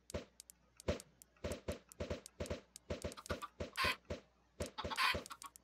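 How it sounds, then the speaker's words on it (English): Minecraft chickens cluck in a steady run of short, close, repeated pecking-like bursts, with a few brighter clattering hits mixed in and no talking. "There goes the chicken."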